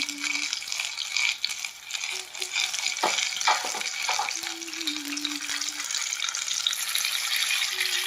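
Paneer sandwich pakoras fry in hot oil with a steady, dense sizzle throughout, close and fairly loud, broken by a few brief clinks and stirring sounds; no talking.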